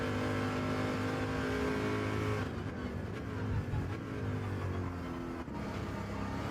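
A virtual Corvette in Gran Turismo 7 held at the redline, a loud continuous high-pitched engine scream that drops suddenly midway into a lower, rougher revving drone.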